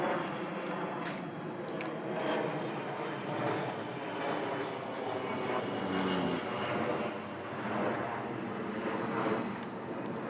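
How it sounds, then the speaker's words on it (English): Airplane passing overhead, heard as a broad, steady engine roar that swells and fades gently over about ten seconds, with no talking. "let me let the plane go over."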